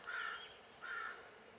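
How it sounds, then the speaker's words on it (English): A crow gives two harsh caws about a second apart, distant and faint, with no other sound around them. "Now I'm going to have to cut out the ominous crow noise."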